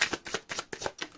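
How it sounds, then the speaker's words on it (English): A deck of tarot cards is shuffled in quick riffling bursts, about five close, crisp ruffles in a steady rhythm with no voice. "Last shuffle."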